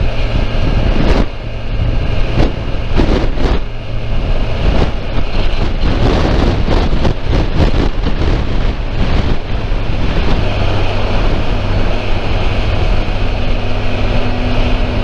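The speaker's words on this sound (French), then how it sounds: "Le vent sur le côté gauche." Gusting wind from the left side roars into the microphone while riding a Versys 1000 SE motorcycle near Cadiz, Spain, loud and continuous with a steady engine drone beneath and bursts of buffeting, no talk.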